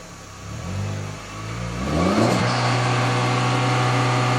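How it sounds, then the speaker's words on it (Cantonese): A car engine revs up and holds steady near 4000 rpm, a strong, close, droning roar that climbs after a softer idle and stays level to the end. "你而家上車，即刻上車，着車，定住4000轉3秒，着車啊！"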